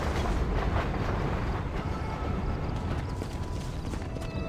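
A galloping horse's hooves pound in a fast, dense rhythm while riding in the video game Red Dead Redemption, loud and steady with a slight rumble beneath.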